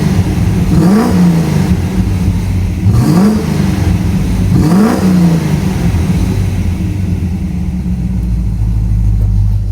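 Range Rover Classic 3.9 V8 fitted with Hedman tubular exhaust manifolds, revving close to the mic in three sharp blips over a steady rumbling idle, each rev rising and falling quickly, loud and alone.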